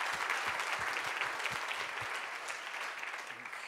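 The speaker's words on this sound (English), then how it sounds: "help us in a round of applause for our sponsors who helped us along the way" Conference audience at the RightsCon Brussels 2017 opening ceremony applauding its sponsors, a dense round of clapping that starts strong and slowly thins over a few seconds.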